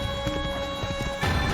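Horse in Assassin's Creed galloping with rapid, irregular hoof clip-clops, ending in a heavier thud as it lands a jump, close and fairly loud with no talking.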